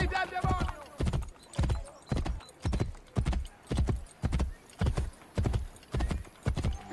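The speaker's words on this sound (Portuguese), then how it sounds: "aqui dá para andar de cavalo" Horse hooves gallop at a steady, even clip-clop in Assassin's Creed Brotherhood, ridden across open, quiet ground while the horse carries a heavy load; the hoofbeats are loud and close, with a brief animal or voice sound at the start.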